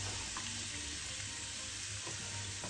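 Garlic sizzles in a pan while beef mechado is being cooked, a steady close frying hiss with faint scattered pops, no voices.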